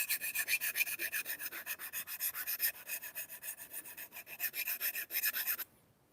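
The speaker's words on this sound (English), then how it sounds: "I'll take the edge off with my diamond file." A diamond file rasps back and forth along a chef knife edge, about two dozen quick, even strokes in steady rhythm, close and bright, stopping abruptly near the end.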